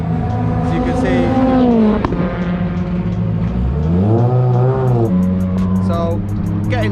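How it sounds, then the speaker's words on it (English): A BTCC hybrid touring race car at a Donington test, with its hybrid system having issues, runs its engine close by. The note rises and falls through several loud revs, with steady mechanical drone throughout. "the cars sound weird with the hybrid unit"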